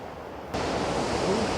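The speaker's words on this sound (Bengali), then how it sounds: "ছুটে আসছে অলকানন্দা। কি তার স্রোত, কি তার চঞ্চলতা, কি তার শব্দ" Rushing current of the Alaknanda river at Devaprayag, a loud, steady roar of fast water that swells abruptly after a quieter start and then holds with no voices.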